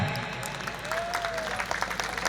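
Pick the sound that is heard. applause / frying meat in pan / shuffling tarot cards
applause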